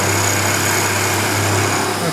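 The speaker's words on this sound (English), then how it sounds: "I'm just hand feeding this. Carbide end mill, 1600 RPM." Carbide end mill spinning at 1600 RPM and hand fed into a workpiece, a loud, steady high-pitched machining whine with a constant hum that holds unbroken throughout.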